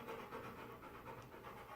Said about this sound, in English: it's my poor dog. He's scared to death of thunder and lightning.